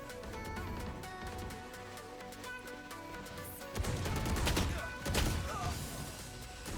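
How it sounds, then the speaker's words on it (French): Gunfire from a video game plays as a dense burst of sharp shots and impacts over busy game sound, growing heavier in the second half, with a player's voice faintly present. "J'ai tiré mes 3 balles jaunes."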